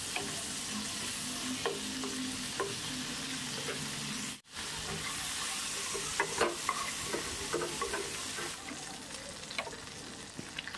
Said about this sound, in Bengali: মাছগুলোকে দিয়ে দিলাম আর এক পাশ মোটামুটি 30 সেকেন্ড করে ভেজে নিচ্ছি